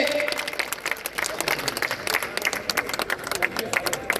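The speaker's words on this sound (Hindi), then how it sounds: "जोरदार तालियां गजेंद्र जी के लिए।" An audience applauds for a newly elected dharamshala president taking the stage, a steady patter of many hands at moderate volume under a voice.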